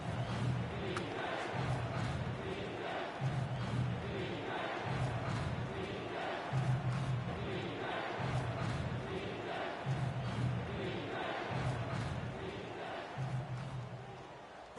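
Crowd noise from an American football video game on PS4 with the home team in Kansas City holding a big fourth-quarter lead, a steady roar with pulsing swells of cheering throughout.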